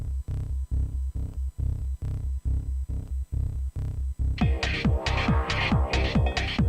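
Electronic dance loop with a pulsing kick pattern, then an offbeat donk bass stab that enters halfway and bounces against the beat, loud and close with no voices.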